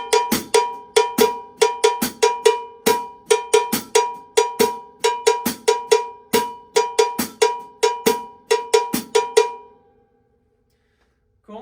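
Loud mambo cowbell pattern is played on a drum kit with a foot hi-hat closing on beats 2 and 4 in a fusion mambo groove. Bright metallic strikes run steadily for about nine seconds, then stop and leave near silence.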